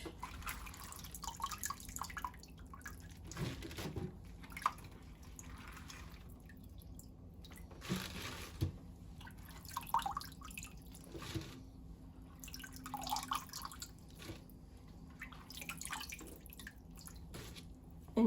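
Water from boiled pasta and chard dripping out of a strainer basket lifted from a pot, scattered soft drips and trickles over a faint kitchen background, fairly quiet and close.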